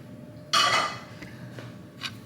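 A spoon spreads seasoned peppers and onions across a homemade pizza, giving one loud scraping clatter followed by a few lighter taps and scrapes, close by and with no talking.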